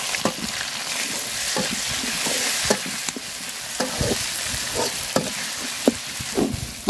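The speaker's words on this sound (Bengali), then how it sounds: "মশলাটা তেলের সাথে খুব সুন্দর করে ভাজা নিছি" Ginger, garlic and cumin paste fries in hot oil with browned onions, a steady close sizzle broken by sharp scrapes and taps of a spatula stirring the pan.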